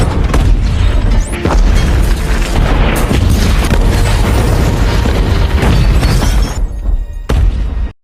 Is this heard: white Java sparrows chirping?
no